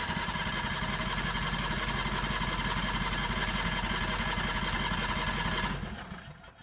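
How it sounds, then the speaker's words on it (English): A 670cc Predator V-twin engine in a Renault project car being cranked over without carburetors to prime the oil pump, a steady rapid mechanical churning that runs evenly for several seconds before winding down and stopping. "Let's crank it over to prime the oil pump and get the engine ready for its first start."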